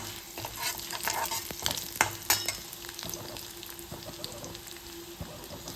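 Dried red chilli and ginger frying in hot oil in a pan for a moong dal sundal tempering, a steady close sizzle with a few sharper crackles and spoon clatter, no voices.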